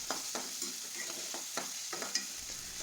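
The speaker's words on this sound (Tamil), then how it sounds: "வெங்காயம் நல்லா வதங்கின வரைக்கும் நல்லா வதக்கிட்டே இருக்கலாங்க" Onions sautéing in a pan for restaurant-style paneer butter masala, a steady close sizzle broken by repeated scraping stirs of a spoon roughly every half second, with no voices.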